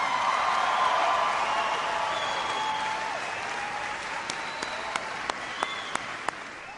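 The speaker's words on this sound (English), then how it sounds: "Please give a huge round of applause to your mayor, Antonio Villaraigosa." A town hall audience in Los Angeles applauds the mayor with sustained, full clapping that gradually thins out, a few sharp individual claps standing out near the end.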